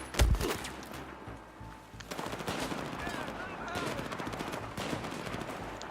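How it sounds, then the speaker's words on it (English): Gunfire in the Battlefield 4 campaign set in Shanghai: a loud close shot opens, then dense crackling bursts of automatic fire run continuously under battle noise. "just find the guy that's shooting at us"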